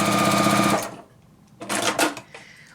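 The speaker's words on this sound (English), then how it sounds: "you can do a pivot and take a couple stitches, and then pivot again and sew that extra" A sewing machine stitches a quilt seam at close range: a fast, steady whirring run, a brief pause, then two short bursts of stitches.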